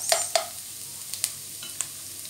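Garlic and onion sautéing in a pan for Filipino bistek bangus until golden brown, a soft steady sizzle broken by a few sharp utensil taps and scrapes, fairly close and quiet.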